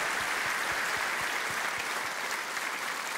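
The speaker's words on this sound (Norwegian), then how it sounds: "Jeg vil gi en applaus for han." Sustained, dense applause from a large audience at a Rockheim Hall of Fame induction ceremony in Norway honoring a band, an even wash of clapping that stays steady throughout.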